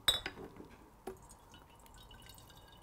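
Water runs into glass jars and vases set out as table decoration, with a couple of sharp splashes and clinks early on followed by a quieter trickle and drips, close by with no talking.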